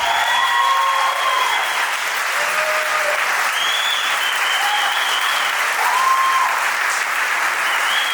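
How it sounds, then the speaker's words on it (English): A wedding reception crowd claps steadily for a couple's dance, a dense, continuous roar of applause filling the room at even volume, with faint brief whistles or cheers rising above it. "how about another big round of applause?"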